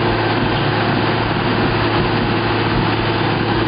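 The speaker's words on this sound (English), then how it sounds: "The quicker they hit rock, the faster they can drill." The engine of a geothermal loop drilling rig runs steadily and loudly at close range, a constant dense mechanical drone with no breaks or talk over it.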